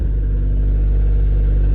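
An old Italian sports car fitted with a turbo accelerates, its engine rumbling loud and steady with a low, continuous drone throughout, no voices present.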